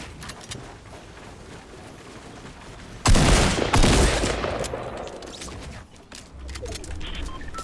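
A single sharp sniper shot cracks loudly in Fortnite ranked build battles, followed by a decaying rumble and lighter background game noise.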